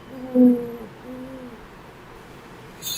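A voice imitates an owl during a children's rhyme session, giving one clear hoot followed by a softer, drawn-out second hoot against a quiet room, with a brief noise at the very end.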